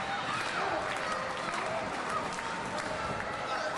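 A loud, vocal crowd fills a darts match hall with steady, dense noise throughout, sustained chatter and shouting that never lets up.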